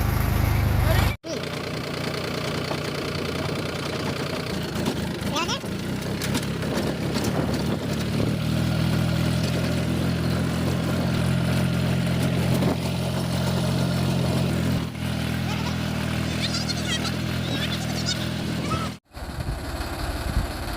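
A farm tractor's engine runs continuously at a steady, rumbling idle with some shifts in load, and a person talks over it.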